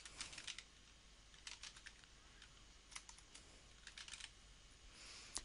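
Typing on a computer keyboard while entering a test domain name: quiet, irregular bursts of key clicks with short pauses between groups, fairly close and alone.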